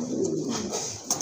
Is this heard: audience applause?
no